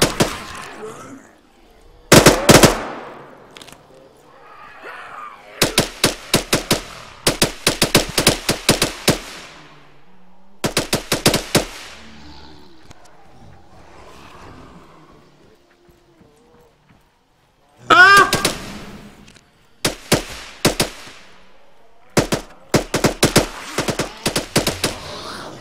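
Rapid bursts of video game gunfire from a roleplay shootout, loud and close, come in several clusters of quick repeated shots separated by quieter gaps. Players talk briefly between the volleys.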